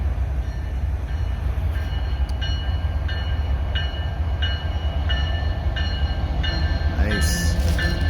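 A train rumbles steadily past on a yard move in the Chicago area, loud and close, with a regular rhythmic clatter of wheels over rail joints throughout.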